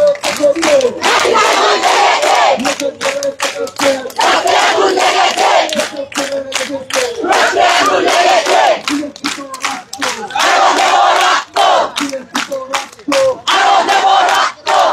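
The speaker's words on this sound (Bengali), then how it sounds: "দর্শক আপনারা দেখতে পাচ্ছেন শিক্ষার্থীরা বিভিন্ন স্লোগান দিচ্ছেন" Nursing college students chant slogans at a protest march, a loud crowd of voices shouting in rhythmic bursts with brief pauses between calls, close and continuous.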